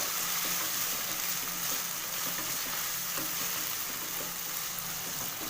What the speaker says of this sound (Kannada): ಸ್ಟವ್ನ ಸಿಮ್ಮಲ್ಲಿ ಇಟ್ಕೊಂಡು ಚೆನ್ನಾಗಿ ಫ್ರೈ ಮಾಡ್ಕೊಳ್ಳಿ.